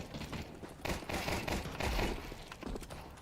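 Gunfire from a shooter video game played against bots, rapid overlapping bursts of shots with clattering weapon mechanics, fairly faint and dense, no speech.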